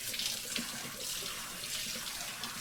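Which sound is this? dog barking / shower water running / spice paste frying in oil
shower water running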